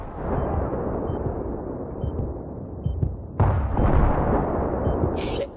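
Tank fire in a Battlefield 3 multiplayer battle: one sudden heavy blast lands about midway through, over a continuous loud rumble of combat noise.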